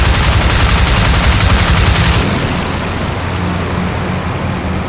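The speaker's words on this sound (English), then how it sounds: "I'm going to strafe this guy on the ground." Aircraft machine guns strafe a ground target in the flight game IL-2 Flying Circus, a loud, continuous rapid rattle of fire layered over engine roar for the whole stretch.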